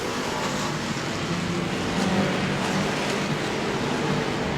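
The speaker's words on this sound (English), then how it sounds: "In a Camaro going after Ronnie Roop's number 80" Race cars, among them a Camaro, roar around a track in a continuous loud engine drone with a slight swell as they pass, close and unbroken.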